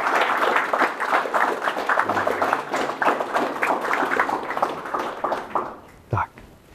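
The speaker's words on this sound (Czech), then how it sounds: "Potlesk," An audience applauding at a live event, a dense patter of many hands clapping that carries on steadily and then thins out near the end, with a single louder thump before it stops.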